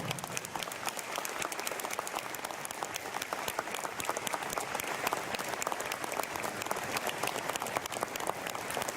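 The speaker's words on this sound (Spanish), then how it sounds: "¡Fuerte, fuerte el aplauso!" A crowd at an outdoor anniversary ceremony for the town of Villa Ángela applauds the presentation of the flag, with steady, dense clapping that holds at full strength throughout, without letting up.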